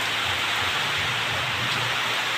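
Steady rain hisses evenly throughout, a dense continuous patter with a faint low rumble underneath and no voices.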